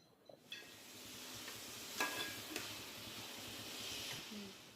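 Tomato chutney mixture with turmeric stirred in a pan for a village-style roti pachadi, a soft steady scraping with faint sizzle and a couple of brief sharper scrapes, close and fairly quiet with no talk.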